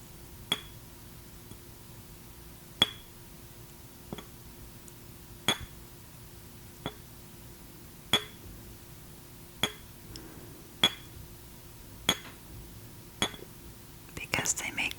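Tiny, delicate glass and crystal objects clink sharply about a dozen times at irregular, spaced intervals, each tap bright and brief against a quiet background with soft whispering.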